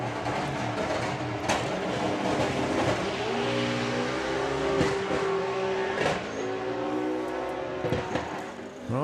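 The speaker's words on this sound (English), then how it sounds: "Right, top fuel car. It's still sounding a bit ill." A top fuel drag racing car engine at a drag strip, running roughly and sounding unwell, gives a continuous loud roar with wavering, shifting pitch over about nine seconds.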